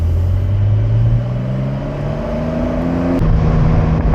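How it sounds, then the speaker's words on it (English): A Porsche 911 Carrera 4S Cabriolet launches hard under launch control, its engine note climbing steadily through the revs, then dropping briefly on a gear change before pulling again, loud and close throughout with no voices. "So a super simple launch control sequence in this car."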